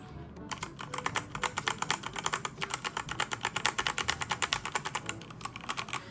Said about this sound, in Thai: นี่คือคีย์บอร์ดที่เราสั่งมา เสียงก็จะประมาณนี้